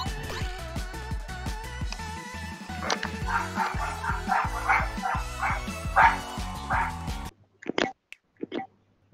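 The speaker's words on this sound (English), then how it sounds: "That dog alright?" A neighbour's dog barks a few short times, heard right after loud Fall Guys game music cuts out in a home gaming setup.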